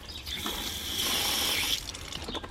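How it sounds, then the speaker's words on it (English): Water runs into a recycled plastic bottle with a little dish soap, a short hollow filling gush that rises then stops, followed by faint handling clicks. "Put some water in it."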